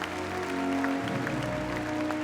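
Audience applause for stallion Mijnte 490 at an older-stallion championship inspection: steady, dense clapping from a large crowd, held at an even level for a couple of seconds over a sustained tonal background.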